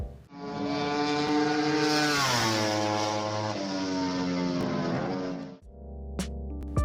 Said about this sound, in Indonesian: Kemudian Ducati, suaranya ngebas banget.